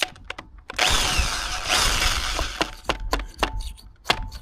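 A power drill bores through a rotten exhaust stud bolt, giving a loud, grinding whine for a couple of seconds, followed by scattered metallic clicks and taps as the drill is backed off.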